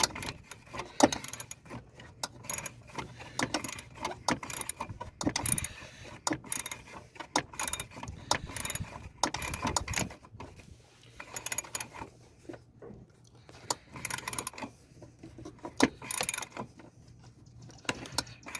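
A hand ratchet tightening the master cylinder bolts on a 1996 Honda Civic, rapid clicking pawl bursts with metallic clatter and pauses between strokes, close up and moderately loud without speech.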